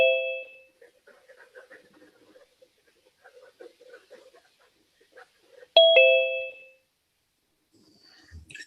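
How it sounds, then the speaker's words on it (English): A doorbell-style ding-dong chime signals someone entering a video conference waiting room; it rings once at the start and again loudly midway, with faint murmuring and clicks in between. "Doorbell's annoying."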